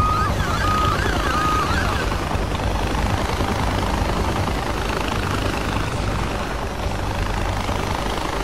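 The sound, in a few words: helicopter approaching in the video game Far Cry 4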